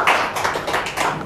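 Hands clap in an irregular patter of quick claps, a group sound at a religious gathering, fairly loud and close.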